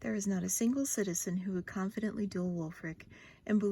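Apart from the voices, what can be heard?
No distinct noise like a dog, phone or traffic.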